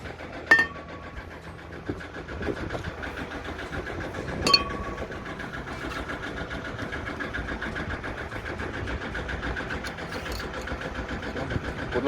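Inboard engine of a project sailboat motoring out through a narrow channel, a steady mid-pitched drone running continuously with a couple of sharp knocks and clanks near the start.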